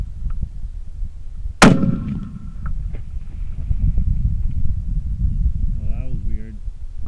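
A single sharp rifle shot cracks loud and close, fired at a distant target, followed by a fading echo over wind noise, with brief speech afterward.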